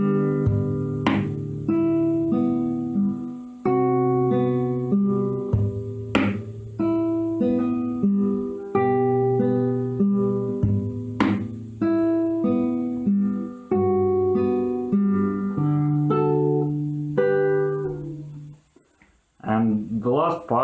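An acoustic guitar plays a section of a song in a lesson setting, with picked melodic notes and ringing chords in a steady, moderate rhythm, fairly quiet and close, with no speech.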